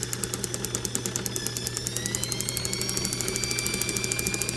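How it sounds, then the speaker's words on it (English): Ignition spark snapping across a spark tester gap, a rapid, evenly spaced train of sharp crackling clicks close by, with a faint whine climbing underneath. "that's some pretty good spark there"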